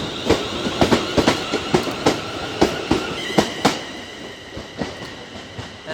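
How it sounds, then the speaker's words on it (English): A train on the Abbey Line runs past a small station near St Albans Abbey, its wheels beating out a steady rhythmic clatter over the rail joints that slowly fades as it moves away, with no one talking. "And there goes the train."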